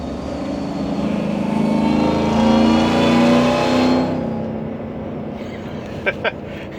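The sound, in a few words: pickup truck engine accelerating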